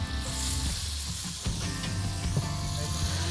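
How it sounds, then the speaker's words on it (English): Butter and garlic melt on a hot Blackstone griddle, giving a soft, steady sizzle with a few light scrapes over a low background hum. "we're gonna melt some butter with a little bit of garlic to create some garlic butter"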